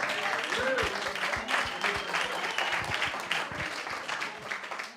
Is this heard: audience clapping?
yes